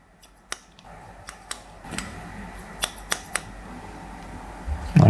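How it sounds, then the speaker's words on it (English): A barber's scissors snip at a hair fringe in a series of sharp, crisp clicks, some single and some in quick pairs, close up in a quiet room with faint background noise and no speech. "I'm trying to trim the fringe down now."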